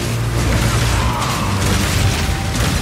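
Crossbow bolts fire and explode in the video game Path of Exile 2, a dense, continuous wash of mechanical clatter and booming bursts.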